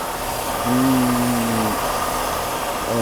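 A Mercedes W126 300SEL engine idles steadily after distributor repair, a close, continuous mid-pitched hum that swells slightly for about a second before settling back to an even idle.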